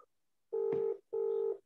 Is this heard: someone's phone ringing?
yes